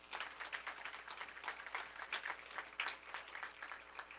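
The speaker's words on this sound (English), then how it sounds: "So let's give them a round of applause." A crowd applauds at a Goodwill of North Georgia store opening, with dense, steady clapping that rises and falls slightly in waves for the whole stretch, moderately near and without talk over it.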